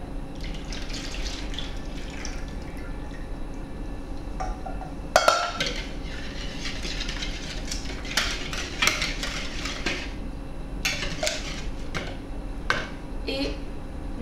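A spoon stirs a milk-and-butter mixture for an Italian Easter brioche, giving steady scraping and clinks against the bowl with a few sharper knocks. Faint running-water and kitchen noise sit in the background.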